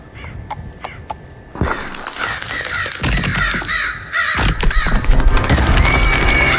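Crows caw repeatedly in Edgar A. Poe The Oval Portrait gamebook, a few sparse calls at first, then louder layered cawing with horse whinnies and clopping hooves building into a dense, close din.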